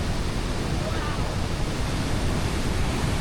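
The waterfall at Cascada de Ángel San Miguel on the Río Blanco, near Baños, Ecuador, pours down in a continuous loud broadband roar. The rush is steady and close with no breaks.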